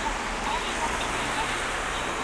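Steady rain falls during a bicycle tour near Tsuwano in Japan, making an even, continuous hiss that stays close and fairly loud throughout.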